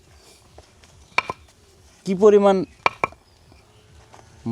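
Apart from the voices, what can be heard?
knocking on a concrete block to test its strength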